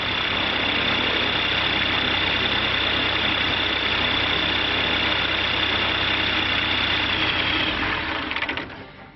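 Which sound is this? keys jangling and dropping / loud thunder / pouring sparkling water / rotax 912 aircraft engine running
rotax 912 aircraft engine running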